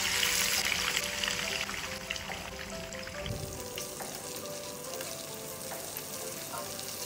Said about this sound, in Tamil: இதே ஆயிலில் ஊற வச்ச சிக்கனை ஃப்ரை பண்ணி எடுக்கலாம்.